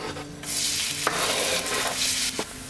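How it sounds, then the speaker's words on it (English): Chopped onion hitting hot ghee in a pan bursts into a loud, dense sizzle that holds steady, with a couple of brief clatters as the onion is moved, close and without speech. "Now I will transfer the onion into the ghee."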